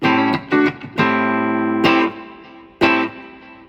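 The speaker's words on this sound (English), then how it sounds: "You can hear the little slap back." Electric guitar notes and chords played through a Line 6 Spider V mk2 amp with slapback echo and Lux Spring reverb, each attack followed by a quick repeat and a ringing tail that fades between strums.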